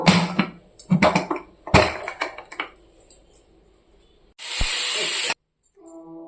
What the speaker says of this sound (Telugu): ఇప్పుడు వచ్చేసి మూత పెట్టి ఒక 6-7 విజిల్లు వచ్చేంత వరకు ఉడికించుకుందాము